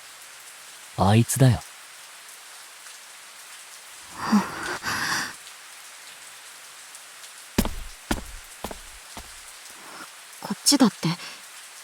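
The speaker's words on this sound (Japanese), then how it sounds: "ああ、また今日も雨かよ。" Steady rain falls in the Project Sekai story game, a soft continuous hiss that runs beneath short bursts of conversation between characters.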